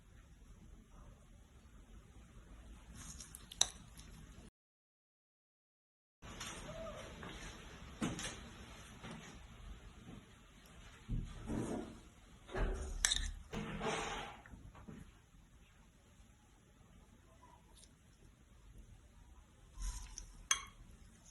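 A spoon scoops tuna salad filling onto cucumber canapés, giving scattered soft clinks and scrapes against a dish, quiet and intermittent, with a short silent gap early on.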